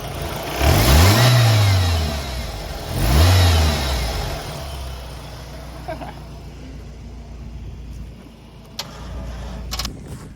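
An old, crusty pickup truck engine revs hard twice, each burst climbing and falling back, then settles into a steady idle. It runs smoother on fresh spark plugs and coils after one loose plug was fixed, with a few faint clicks near the end.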